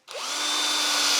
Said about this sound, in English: Then we're gonna pre-drill.